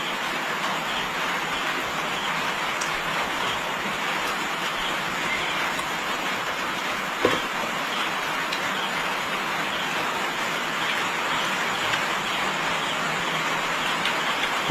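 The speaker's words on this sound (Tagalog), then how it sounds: "Umuulan na mga ka-jobs." Steady rain falls at night during a crab and cuttlefish fishing outing, a dense even hiss throughout with one faint knock midway and no speech.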